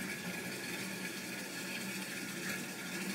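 Water rushes steadily into a 5 gallon water jug at a filling station in Mexico, a continuous, fairly close splashing gush with no voices over it.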